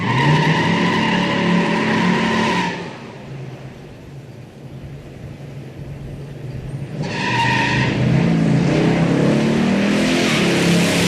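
A Boss 429 muscle car spins its tires in a loud burst of engine roar and squealing rubber, then the noise drops to a lower rumble for a few seconds before a second loud howl of revving and tire squeal.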